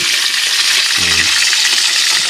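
Oil sizzles and crackles steadily as tilapia fries in a pan, a constant bright hiss with a brief low clink partway through.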